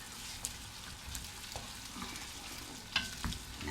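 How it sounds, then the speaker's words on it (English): A spoon stirs seasoning through meat cooking in a pan, a soft steady sizzle with faint scraping and stirring clicks at close range, no talk. "I'm going to put this seasoning into the meat. I'm going to stir it."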